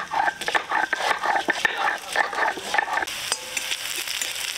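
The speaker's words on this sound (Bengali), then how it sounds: "পেঁয়াজগুলো ভাজা ভাজা হয়ে গেছে" Onions frying in oil with black cumin in a pan, a steady crackling sizzle with rhythmic stirring scrapes, close by, easing into a smoother hiss near the end, with faint voices in the background.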